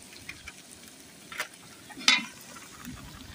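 Onion, green chilies, cumin, mustard seeds, curry leaves, turmeric and asafoetida fry in oil for kanda poha cooked for wedding guests. A soft, steady sizzle runs throughout, broken by a few brief stirring scrapes, with no talking.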